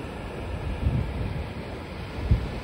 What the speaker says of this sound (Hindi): वेगेटर बीच की शानदार लहरें